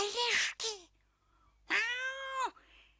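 An angry cartoon cat lets out loud, strained meows with a rising and falling pitch. Two separate close cries are heard, with a short pause between the first pair and a long, drawn-out yowl that comes later.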